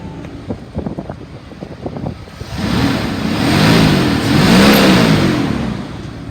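A 2002 Dodge Ram 3500 utility truck engine revs up after a moment of idle and wind buffeting, its mid-pitched roar swelling and falling in two long, loud surges close by.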